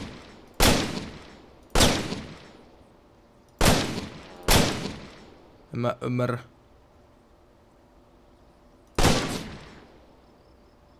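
Single rifle shots in Finnish Army Simulator ring out one at a time, five sharp loud cracks spaced unevenly, each with a short decaying tail, and someone speaks briefly between them.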